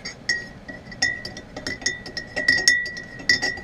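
A spoon stirring green tea in a cup, giving a rapid series of bright, close clinks against the sides, irregular but frequent, with no voices.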